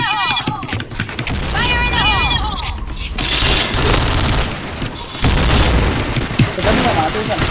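A grenade goes off in the Point Blank video game, a heavy boom amid a busy mix of mechanical clatter, gunfire and in-game voices, loud and close throughout.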